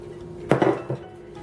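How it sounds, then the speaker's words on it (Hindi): A glass baking tray being handled in a home kitchen while making bread pudding, giving a few sharp clinks and knocks close by, then quiet. "ये मेरे पास एक बेकिंग ट्रे है, ग्लास की है मेरे पास।"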